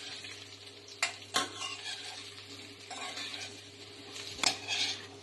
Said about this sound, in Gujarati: તો હવે આપણે એને બરાબર મિક્સ કરી દઈશું